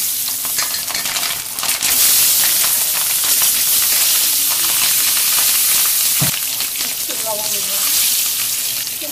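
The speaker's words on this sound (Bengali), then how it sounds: "এখন আমি এর ভিতরে আলুটা ভাজবো।" Potato pieces fry and sizzle loudly in oil left from frying fish, tempered with cumin, with bright steady hissing and occasional stirring scrapes close by.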